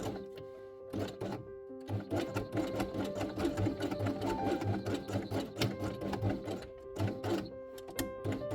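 A sewing machine stitches felt pieces in quick rhythmic bursts of rapid needle clatter, pausing briefly between runs, close and fairly quiet.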